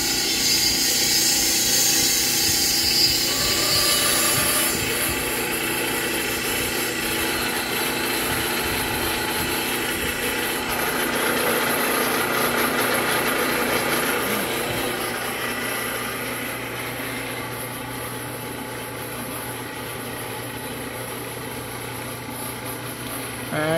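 A refrigerant recovery machine runs steadily while pulling R134a refrigerant out of a car's air conditioning system, a continuous close motor hum with a hissing, whirring texture that shifts slightly in tone over time, with no talking.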